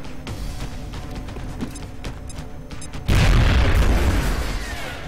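A grenade detonates with a loud, sudden boom in XCOM: Long War, a close, heavy blast that jumps out of quieter ambient battle noise and rolls on for a couple of seconds.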